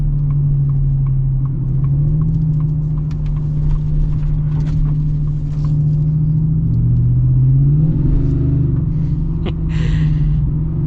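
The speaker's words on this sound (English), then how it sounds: "you just kind of listen to the exhaust and just kind of drive around" Lowered 2025 Ford F-150 Black Widow pickup cruising, its engine and exhaust giving a steady deep rumble with a few rises and dips in pitch as it accelerates and eases off, loud and close with no talking.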